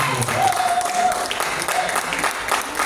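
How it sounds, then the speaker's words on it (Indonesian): An audience at an Islamic finance talk applauding guests, a continuous wash of many hands clapping at steady loudness, with a brief tonal whistle-like sound and faint voices mixed in. "Tepuk tangan untuk beliau berdua."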